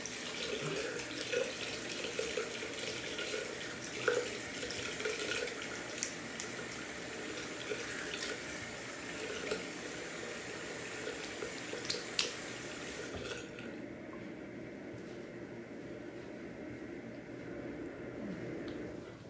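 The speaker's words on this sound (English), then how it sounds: "rinse this alum off." A faucet runs steadily at a sink while alum is rinsed off after a wet shave, a constant close hiss of water that stops abruptly after about thirteen seconds and leaves a quiet room.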